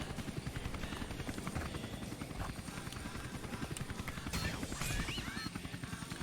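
A helicopter in Tony Hawk's Underground 2 video game gives a steady, fast rotor chop and engine drone throughout, loud and continuous, with faint voices and game noises mixed underneath.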